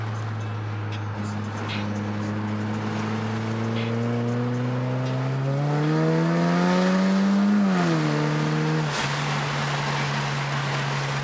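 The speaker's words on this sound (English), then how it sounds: "There's a car coming" A car engine approaches and passes, its pitch rising then dropping, steady and fairly close, with no talking.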